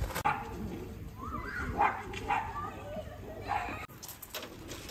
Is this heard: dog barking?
yes